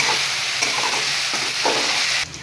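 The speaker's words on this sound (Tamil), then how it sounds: "இஞ்சி பூண்டு விழுது நல்லா வணக்கியாச்சு." Ginger garlic paste sautéing in a pan for a cauliflower and potato fry, a steady loud close sizzle with occasional stirring scrapes, cutting off sharply at the end.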